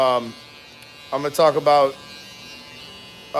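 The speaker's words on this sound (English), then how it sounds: "I was just talking about the UV foil shaver." A UV foil electric shaver buzzes steadily and close during a haircut, its hum running under a voice that speaks in short bursts.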